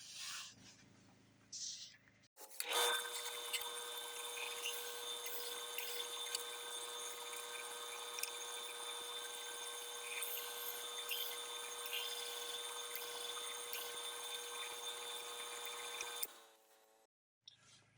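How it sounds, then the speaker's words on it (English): A power drill chamfers screw holes in a wooden guitar block for drywall screws, running in one sustained high whine of about fourteen seconds, close and steady, with brief handling noises before and after. "So I need to chamfer these holes so the drywall screws will sit flush"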